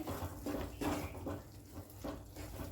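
Water splashing and gurgling into a pan of mushroom curry with garam masala in uneven pulses, fairly quiet and close, with light clinks of cookware.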